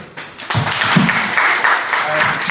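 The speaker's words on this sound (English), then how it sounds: "I count another round of applause for our amazing host" At a women's networking event, a room of attendees claps for the host, the applause rising after a brief opening and continuing with voices talking over it.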